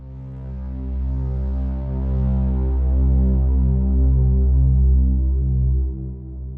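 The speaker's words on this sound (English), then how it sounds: "So what I'm using here are actually some pads from Zebra and Omnisphere" A deep, sustained synthesizer pad from the Zebra and Omnisphere synths drones with slow swelling harmonics, warm and loud, holding steady before fading slightly at the end.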